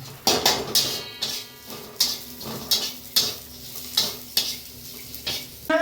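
Onion frying in a pan on a gas stove, a soft steady sizzle broken by repeated rhythmic stirring scrapes about every half second, fairly close and moderately quiet.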